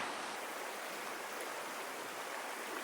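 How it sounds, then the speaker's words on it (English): A cold mountain river on a small Pacific volcanic island flows with a steady, even rush of water, faint and close, and no voices are heard. "And we've got to cross this river here."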